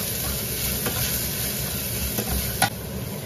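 Chopped onions sautéing in oil with salt in a pan, a dense, even sizzle with a few brief stirring scrapes, close up and without speech.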